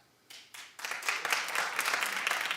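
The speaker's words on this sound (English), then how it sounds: "Clap if you'd go anyway." A studio audience on a daytime talk show breaks into clapping, starting with a few scattered claps and swelling into a dense, steady round of applause that continues to the end.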